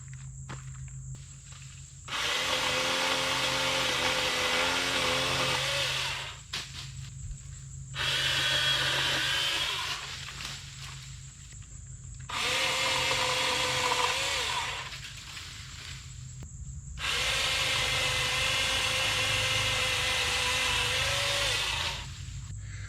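An HT 20V Max cordless pole saw runs in four long bursts, a loud, close, buzzing whine that rises and falls between cuts, with a faint steady hum in the short gaps.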